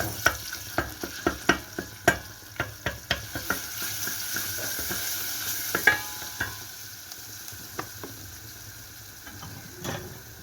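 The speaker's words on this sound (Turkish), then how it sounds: "ikinci sefere diğerlerini kızartmaya başlayacağım." Elazığ-style boiled stuffed köfte (içli köfte) fry in hot oil nearby, with irregular pops and crackling sizzles over a soft steady hiss.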